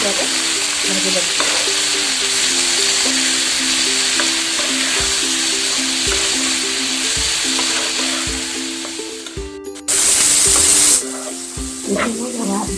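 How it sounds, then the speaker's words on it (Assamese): Chicken meat seasoned with salt, turmeric and ginger-garlic frying in a pan, a steady loud sizzle with occasional stirring scrapes, alone without talk. "মাংসখিনি মই এনেকুৱাকৈ ভাজি ল'ম।"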